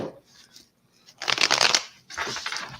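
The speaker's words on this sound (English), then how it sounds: "Let me do one more quick shuffle." Tarot cards are shuffled in two quick riffling bursts, close and crisp, separated by a short pause after a quiet start.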